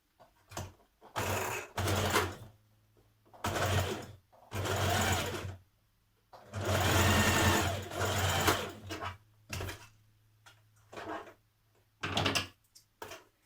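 Sewing machine stitching the long edge of a folded loop band for an occasion wear dress, several separate bursts of whirring at varying lengths with short silent pauses between, close and clear with no talk.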